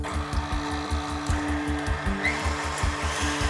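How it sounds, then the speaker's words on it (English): An electric mixer creaming butter for cupcakes, a steady motor whir with a rhythmic thumping pulse of the beaters, close and loud with no voices. "Then reduce the speed of the mixer a little bit."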